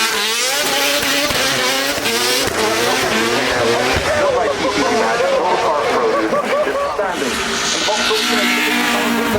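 Mad Mike's LS-powered single-turbo drift car at the Goodwood Festival of Speed, loud screaming engine revs and squealing tyres skidding continuously, close and intense, with a commentator talking over it.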